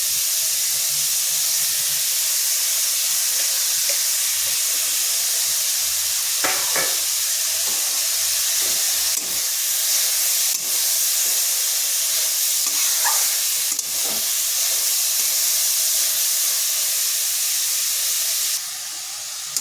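Grated carrots fry lightly in a wok, giving a steady soft sizzle and hiss with occasional stirring scrapes and clicks throughout, no voices.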